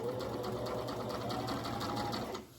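A sewing machine runs steadily while stitching slowly along the edge of an envelope pillow cover, its motor drone continuous and close, then easing off and stopping near the end.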